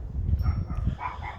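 Dogs bark and yip nearby in a quick run of short, overlapping woofs over a low, rumbling background.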